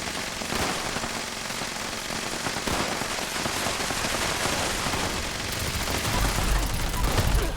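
Gunfire crackles through a Fallout 76 firefight in dense, rapid overlapping bursts, loud and continuous throughout, with a heavier low rumble building near the end.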